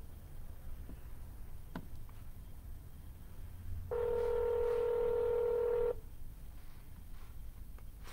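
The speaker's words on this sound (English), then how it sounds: "Keep on dialing," Telephone keypad tones from a real estate cold-calling phone line: faint ticks and clicks, then a single steady dialing tone lasting about two seconds, with no talk.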